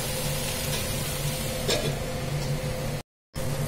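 A drumstick leaf and tomato curry is stirred in a pan, with a close, steady sizzling hiss and soft scraping, broken by a brief silent gap near the end.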